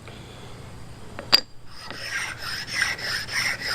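Pocket knife blade sharpened on crystalline and soft Arkansas oil stones: a sharp click, then close, repeated scraping strokes of steel rasping across stone, with no talking.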